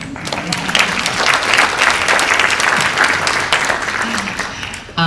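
Audience applause at a film screening and panel discussion on ME/CFS, steady, loud and close, sustained for the whole span with dense clapping throughout.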